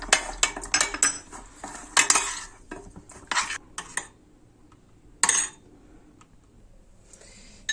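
A spoon stirs warmed cream, whipped-cream powder and chocolate pieces in a bowl for a Malaga cake, giving close metallic clinks and scrapes in quick bursts, then a pause, one more burst and near silence.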